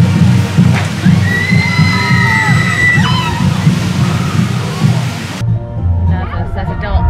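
Water from the Splash Mountain log flume at Magic Kingdom churns and sloshes loudly and steadily over a busy theme-park crowd, with distant riders' shrieks rising above the rush before it suddenly thins.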